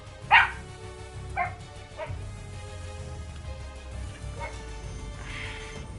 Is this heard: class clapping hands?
no